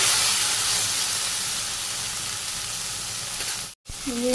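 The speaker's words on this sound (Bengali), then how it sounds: "ঢেঁড়স ভাজি নাড়া দিয়ে দিন" Okra fries in a pan in a village kitchen with a loud, continuous sizzle and hiss that briefly cuts out near the end.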